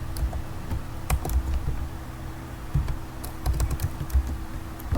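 Typing on a computer keyboard in a notepad program, a steady run of close, light key clicks with occasional louder taps, heard alone.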